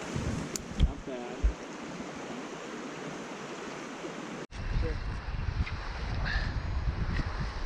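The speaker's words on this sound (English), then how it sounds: "It's kind of windy, as you can see." Wind gusts over a lake in Michigan's Upper Peninsula, with a steady roar of wind noise on the microphone and a few brief knocks.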